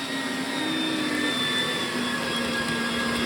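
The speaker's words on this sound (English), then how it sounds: "We've got the biggest setting on the mincer, the thickest setting." An electric meat grinder on its thickest setting, mincing meat strips for homemade sausages, whirs steadily with a constant motor drone and high whine, running alone without pauses.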